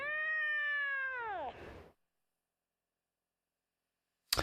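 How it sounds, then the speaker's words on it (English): A cat's meow from the video game Legend of Sword and Fairy 5 Prequel: one long, clear, drawn-out call sliding down at the end, followed by near silence and a brief sharp noise at the close. "why when there's clearly two sounds here would they only use meow?"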